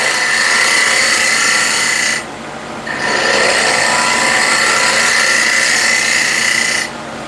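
A shear scraper cuts chestnut wood spinning on a lathe, a loud, steady, high-pitched scraping whine that drops away briefly near the start and cuts out again at the end.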